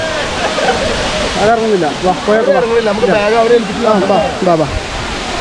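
Dudhsagar Waterfall in the Western Ghats roars as a steady, loud wash of falling water under a voice talking throughout.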